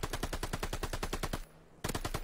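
Rapid automatic gunfire from a ranked online shooter match, loud and sustained bursts of evenly spaced shots that break off briefly near the end before resuming.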